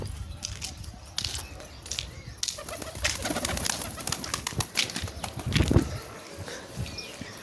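A flock of about seventy pigeons with chicks flutters and flaps wings close by, amid soft cooing and scattered rustling.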